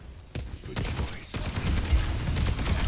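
Rapid gunfire from Overwatch gameplay on the Eichenwalde map, a steady dense stream of shots mixed with game effects, loud and continuous throughout.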